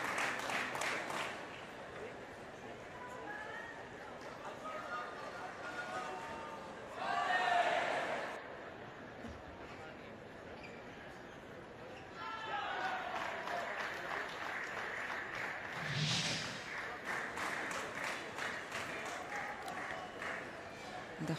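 A home crowd applauds at a Paris 2024 Paralympic wheelchair table tennis match, bursts of clapping and cheering in a large hall rising and falling under continuous commentary.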